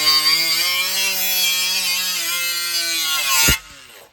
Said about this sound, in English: So I'll get some kind of a sander or a grinder